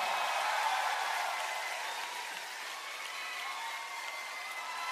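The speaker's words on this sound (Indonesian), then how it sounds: "para hadirin, tepukan" Sustained audience applause at an unplugged concert, a steady broadband wash of clapping from many hands that stays fairly even throughout, fading slightly midway then holding, with no talking over it.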